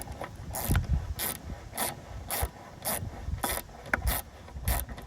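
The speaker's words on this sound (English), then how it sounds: "Get the ratchet on there." A ratchet driving a Gripedge RPT socket on a nut, clicking in a steady rhythm of about nine close, crisp strokes with faint mechanical rubbing between them, no talking.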